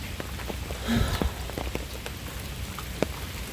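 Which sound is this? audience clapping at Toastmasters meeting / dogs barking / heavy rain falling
heavy rain falling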